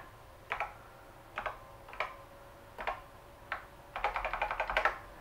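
Keys clatter on a NABU computer keyboard, a few separate strokes spaced about a second apart before a quick burst of rapid typing near the end, close and clear with no voices.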